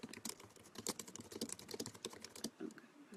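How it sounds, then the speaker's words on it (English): Rapid, steady typing on a computer keyboard, dense quiet clicks in close succession at low volume, with no talk. "Let's just type this out."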